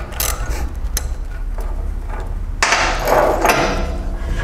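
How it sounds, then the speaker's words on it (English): A cable lug comes off a welding work clamp for 4/0 welding cable, giving a run of close metallic clanks and ratcheting tool clicks, then a louder, brighter stretch of scraping and rattling toward the end. "I'm going to take off the existing cable lug"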